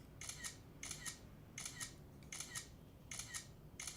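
Smartphone camera shutter clicks from an iPhone 7 Plus and a Samsung Galaxy S7 Edge repeat in a steady rhythm, six quick double-clicks spaced evenly, close and crisp over faint background hiss.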